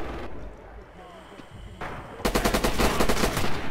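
Rapid automatic gunfire from the World War II shooter Red Orchestra 2 breaks out loudly after about two seconds of quieter battlefield rumble, a dense fast burst of shots continuing to the end.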